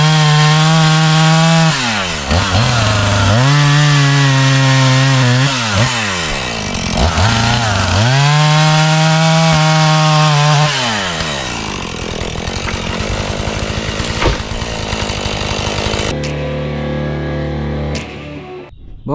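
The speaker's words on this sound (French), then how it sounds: "J'ai encore quelques coups de tronçonneuse à mettre à droite à gauche" A loud chainsaw roars nearby, its engine rising and bogging down repeatedly as it bites through wood, then idles briefly before cutting off.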